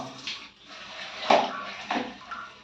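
Water poured over a toddler's head during a bath, a few soft splashing pours spaced about half a second apart, close and moderately quiet.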